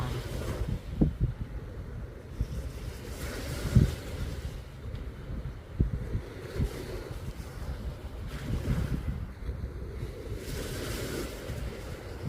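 Sea waves washing at Pattaya beach in Thailand with a boat nearby, a steady low rumble of surf and wind with occasional splashes and swells, no talking.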